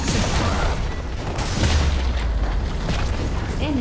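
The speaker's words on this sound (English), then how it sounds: "Enemy turret destroyed." A turret explodes in the League of Legends video game, a deep boom with rumbling blasts and busy battle effects layered over the game's continuous background noise.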